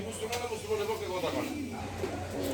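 Lakkha pigeons in a loft coo in soft, low, repeated throaty calls, heard up close under someone talking steadily throughout.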